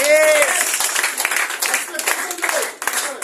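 An audience claps at a lecture on diabetes, producing dense, sustained applause across the whole stretch, with a voice speaking over the opening moments.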